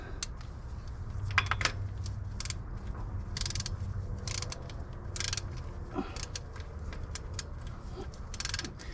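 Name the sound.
socket ratchet tightening a drain plug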